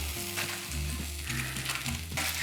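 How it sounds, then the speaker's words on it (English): Fish fries in a pan for a Ghanaian home-cooked meal, a steady loud sizzle with crackling oil and occasional stirring scrapes throughout. "I'm gonna fry my fish before I put it in the oven"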